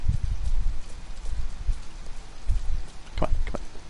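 Rain falls in the video game Detroit: Become Human, a steady soft patter with low rumbling thumps early on and a brief brighter splash near the end, fairly quiet and with no talk.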